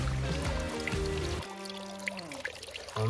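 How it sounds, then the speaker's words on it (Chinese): A small, cold mountain stream at a trailside water source on a peak hike, trickling and pouring steadily close by, with a brief shift in flow partway through and no talking. "我以为会是个瀑布，结果是个涓涓细流。"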